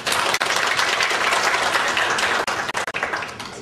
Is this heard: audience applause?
yes